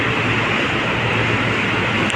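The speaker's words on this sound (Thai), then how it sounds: "แล้วนี่ก็จะเป็นรถไฟฟ้าพี่น้อง" An elevated electric Skytrain in Thailand passes near a station with a loud, steady rushing roar that stays constant throughout, with no voices.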